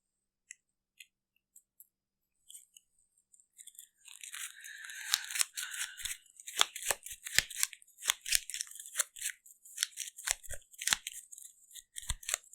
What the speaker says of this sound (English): And shuffle these back in.